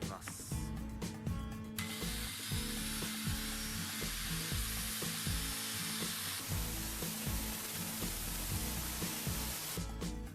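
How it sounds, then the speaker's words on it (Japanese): A power sander fitted with 40-grit paper grinds steadily against wood while shaping a homemade Toyota HiAce center console box, a continuous close rasping hiss with shifting pressure and a faint background hum. "サンダーでですね、ペーパーになってますので、このペーパーでですね、ここの、大体成形したやつをですね、削っていきます"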